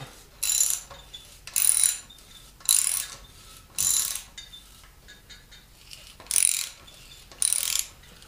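A ratchet drives an insert tap into a stripped head bolt hole in an aluminum LS V8 block, sending out seven evenly spaced bursts of close, sharp pawl clicking separated by short pauses.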